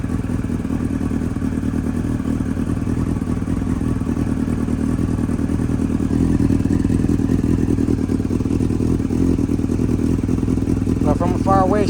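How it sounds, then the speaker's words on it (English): A project motorcycle's engine runs steadily in neutral, a close, continuous low rumble with a mechanical clatter that grows slightly louder about halfway through. "So you have to put it in neutral and start it."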